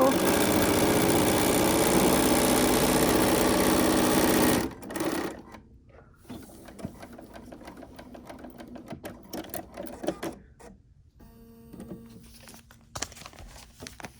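A sewing machine stitches a seam in a quilt block, running loud and steady for several seconds before stopping, followed by quieter handling, fabric rustling and small clicks.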